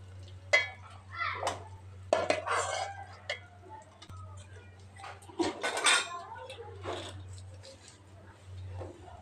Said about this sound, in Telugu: ఇప్పుడు వేరే గిన్నెలోకి తీసేసుకుంటాను.